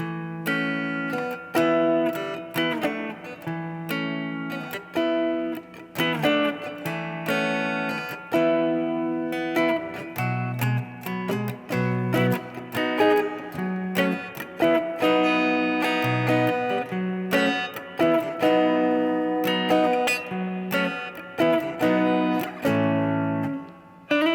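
A guitar plays a choppy riff of short, punchy chords and notes in a steady rhythm, alone and fairly close.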